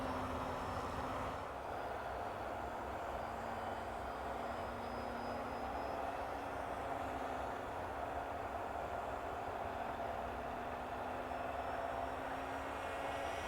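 A Polikarpov I-16 radio-controlled model airplane engine runs at half throttle as a steady, fairly faint drone heard from a distance, holding an even tone throughout with no talking.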